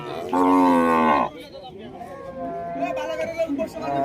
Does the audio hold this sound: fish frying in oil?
no